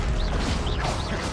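A Levioso levitation spell is cast in the Hogwarts Legacy video game: a dense, loud magical rush with swooping, warbling tones rising and falling over a steady roar, lasting about a second with no talking.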